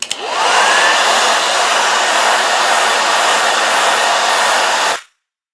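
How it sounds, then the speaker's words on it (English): A hair dryer heating the corners of an LG G7 ThinQ phone to loosen its back glass: a steady loud whooshing blow with a rising motor whine at switch-on, running evenly for about five seconds before shutting off. "So I'm going to be using a hair dryer to do this."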